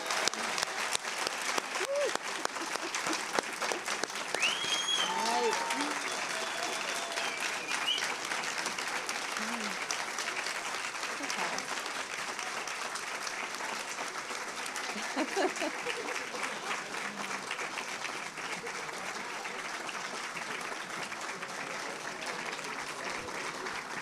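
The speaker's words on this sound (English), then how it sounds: "would you please give them one more round of applause?" An audience applauding at a nurse pinning ceremony: a dense, steady wash of many hands clapping for about twenty seconds, with faint voices and cheers mixed in.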